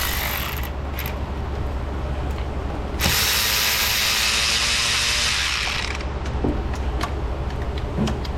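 A ratchet clicks steadily while the ignition coil bolts come out of a Lexus GX 460 4.6 engine, close and loud over a constant mechanical hum, with one stretch of denser, faster ratcheting in the middle.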